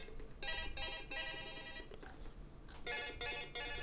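A new phone's alarm rings in repeated electronic bursts, two groups of pulses separated by a short gap, fairly quiet against a low background hum.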